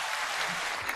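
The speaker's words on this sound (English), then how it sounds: "Let's hear the clapping." A short burst of steady clapping from a small group, fairly faint and close, lasting about a second with no voices over it.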